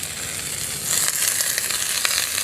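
Spinach dropped into a pan of well-fried potatoes, a steady bright sizzle that swells and crackles louder partway through, close and continuous with no talking.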